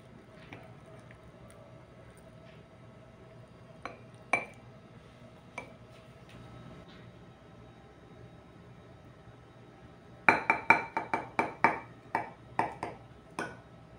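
A fork strikes a plate while cutting pamonha: a few isolated clinks early on, then a quick cluster of sharp metallic taps and scrapes near the end, close and bright in an otherwise quiet kitchen.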